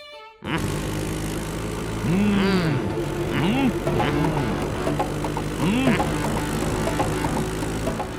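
A motorbike being ridden, its engine humming steadily with a swelling and fading drone, while musical sound effects chirp over the ride at a few moments.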